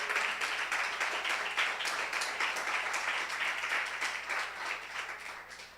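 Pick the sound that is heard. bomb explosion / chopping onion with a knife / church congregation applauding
church congregation applauding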